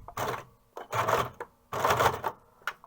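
A sewing machine stitches the seam of a single-layer hood in three short bursts, each about half a second long and separated by brief pauses, close and moderately loud with no talking.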